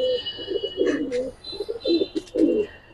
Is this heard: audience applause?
no